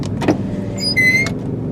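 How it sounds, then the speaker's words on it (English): A 2010 Chevrolet HHR LT with intermittent power steering loss drives with a steady, loud low engine and road rumble from inside the cabin, brief higher whines and tones rising over it midway. "yeah, this car's loud"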